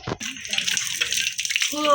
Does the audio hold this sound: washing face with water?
yes